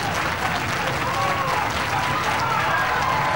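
Wrestling arena crowd cheering and clapping for James Mason in a steady, sustained roar, with a commentator's voice faintly under the noise.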